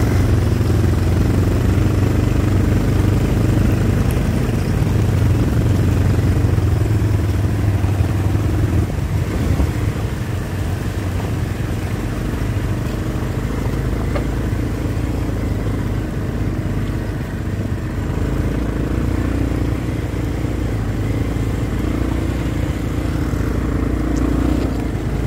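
Scooter engines ride downhill on the way to Latarambeshwor Mahadev, a loud, close, unbroken engine drone with rattling that holds steady throughout, with no talk.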